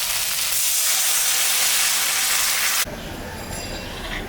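Water poured into a sautéed fish curry with coriander leaves erupts in a loud, steady hiss of steam and sizzle for nearly three seconds, then drops abruptly to a softer, bubbling simmer.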